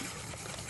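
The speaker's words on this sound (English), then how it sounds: "I'm going to add my lemon juice and my vanilla." Lemon juice and vanilla pour in a brief, close, steady liquid trickle into cake batter for a blueberry upside-down cake.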